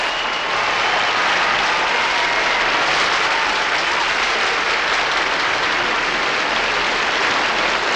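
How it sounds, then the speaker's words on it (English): Sustained applause from a large audience at a celebrity roast in a Las Vegas hotel, a dense, even roar of clapping that holds steady for eight seconds without talk. "Go ahead if you want to applaud"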